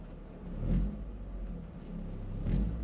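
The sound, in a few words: Toyota GR Corolla engine revving at idle, Cusco pitch mount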